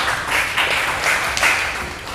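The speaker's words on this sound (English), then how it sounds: "Round of applause, ladies and gentlemen." A crowd claps steadily for a couple of seconds at a junior basketball championship conference, a dense wash of applause at moderate volume with no voices on top.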